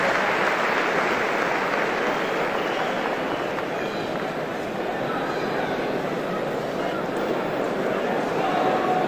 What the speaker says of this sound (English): they applaud as Mike Bossy is taken off on a stretcher